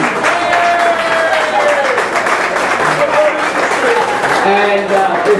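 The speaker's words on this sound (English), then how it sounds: "let's give a round of applause to him." Audience applause at a New Jersey 16th District campaign event honoring an assembly candidate, steady dense clapping sustained throughout with crowd noise and some voices mixed in.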